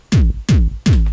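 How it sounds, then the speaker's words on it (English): A deep electronic kick drum layered with a second, much higher-pitched kick, struck three times at an even pace, loud and dry with no talking. "it's layered with another kick drum which is pitched a lot higher"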